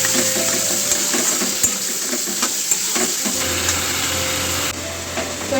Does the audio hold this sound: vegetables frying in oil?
yes